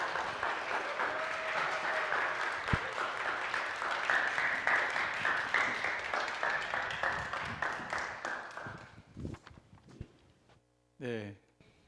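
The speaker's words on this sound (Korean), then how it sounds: "나오시면 우리 큰 박수로 환영해 주세요" A church audience claps warmly to welcome a speaker to the front, a dense sustained round of applause that gradually thins out and fades, followed by a few scattered sounds.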